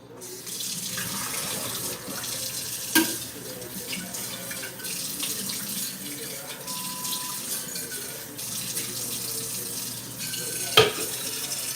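Water runs steadily from a tap into a sink for several seconds at moderate volume, with a couple of brief clinks partway through and no talking.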